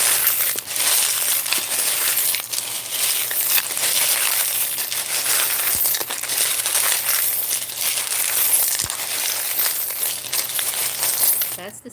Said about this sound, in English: That's the sound of the mixing of the charms.